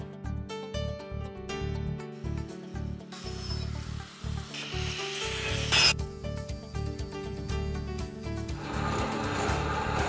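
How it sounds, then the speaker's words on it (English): Stainless steel is sanded by hand for a boat's water tank lid, giving a steady rasping scrub in repeated strokes, close and fairly loud, with a few knocks near the start. "I will sand the stainless steel so the epoxy can be adhered better and stick."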